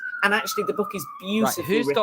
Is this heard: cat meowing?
no